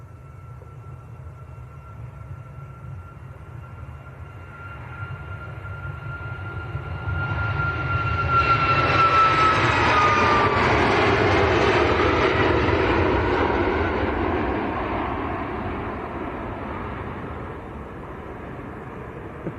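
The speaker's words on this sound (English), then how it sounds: "We've got KLM taxiing out." A KLM airliner taxiing at Manchester Airport, its broad engine roar swelling to a peak midway and then easing off, with a steady rumble throughout and a faint whine riding above.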